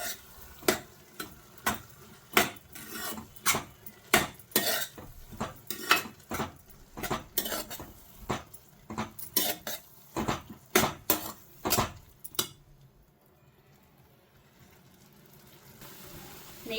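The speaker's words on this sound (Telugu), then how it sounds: "ఇప్పుడు మనం శుభ్రంగా కలుపుకొని దీన్ని కొంచెం నేతిలోని వేగనిద్దాం." Bottle gourd halwa being stirred in ghee in a pan, a metal ladle scraping and clanking against the vessel in a steady run of sharp strokes, with a soft sizzle beneath, then fading to quiet near the end.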